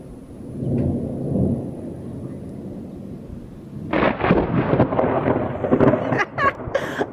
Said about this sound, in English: Now, as long as we don't get hail, this is a great storm